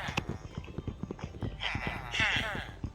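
Horse hooves clip-clop as a player rides a horse in Minecraft, a steady sequence of light repeated knocks running under continuous speech from a talking player.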